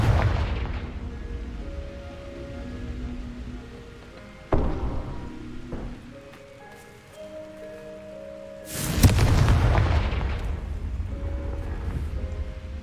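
Confringo fire-spell blasts in the video game Hogwarts Legacy: two heavy booming explosions several seconds apart, each followed by a rumbling, crackling tail over soft sustained musical tones.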